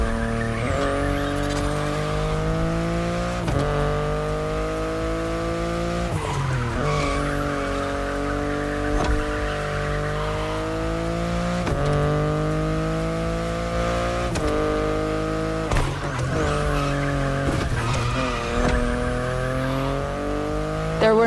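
A BMW i8 hybrid sports car driving hard in The Crew Motorfest racing game, its engine whining loudly and continuously through repeated rising gear pulls, cut by shifts and accompanied by sustained tire squeal.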